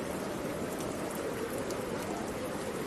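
Steady rain and wind play as an ambient effect during a tabletop role-playing session, a dense continuous wash of falling drops with no talk over it.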